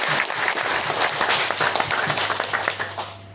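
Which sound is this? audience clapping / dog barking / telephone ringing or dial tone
audience clapping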